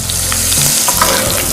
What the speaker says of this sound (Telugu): ఇది వేగిన తర్వాత మనం ఈ బెండకాయ ఈ బంగాళదుంప సపరేట్గా తీసి